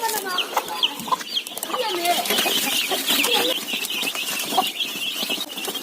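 Chickens on a home poultry farm cluck and cackle continuously nearby, several birds overlapping in busy, chattering calls at a lively, fairly loud level.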